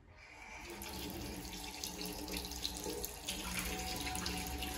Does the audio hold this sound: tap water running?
yes